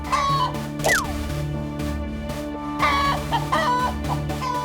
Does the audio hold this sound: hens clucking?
yes